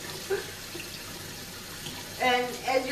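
Tap water runs to rinse out a bleeding wound during first aid, a soft steady splashing stream at low level, with someone speaking briefly over it.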